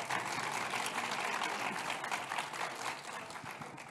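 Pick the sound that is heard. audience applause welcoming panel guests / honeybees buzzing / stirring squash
audience applause welcoming panel guests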